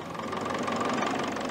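A 1947 Massey Ferguson TE20 farm tractor idles with a steady, even mechanical chug and a low knocking pulse that stays at one constant level.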